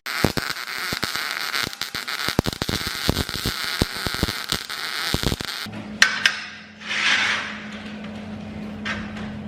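A welder crackles and sputters on a trailer frame, a dense run of sharp popping bursts up close for several seconds, then stopping, followed by a low hum and a few scattered clanks.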